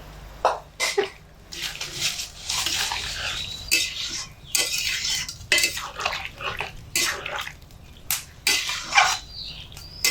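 A metal spoon stirs poppy seed paste water into shukto, a Bengali mixed-vegetable dish, in a pan, making repeated scraping and clinking strokes with wet splashy swishes in an irregular rhythm, close up and without speech.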